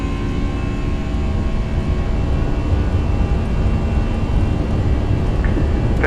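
Airbus A320 jet engines roar at full takeoff power in a Flight Factor flight simulator departure from Los Angeles, a loud, steady, unbroken rumble with no voices over it.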